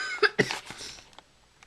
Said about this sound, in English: if I'm coughing a lot during the video, sorry about that